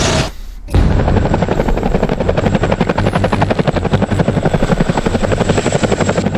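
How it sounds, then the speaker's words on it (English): Two Chinook heavy-lift helicopters approach to land at a clearing near Yio Chu Kang, a loud, steady rotor thudding with rapid rhythmic blade chop that swells in after a brief quiet start and holds close and continuous. "Two Chinook heavy-lift helicopters approach for landing at a clearing"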